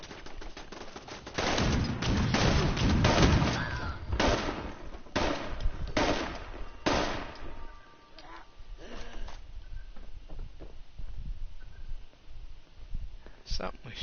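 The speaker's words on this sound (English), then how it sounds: "Something was shooting at me" Gunfire in Fallout 76: a cluster of loud, sharp shots and crackling bursts early on, fading into sparser, fainter pops, with a voice speaking in between.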